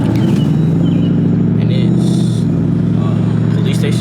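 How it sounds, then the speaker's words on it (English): Car doing burnouts outdoors near a police station, its engine droning and revving loudly and steadily throughout, with a constant roar under background clatter. "doing burnouts over here"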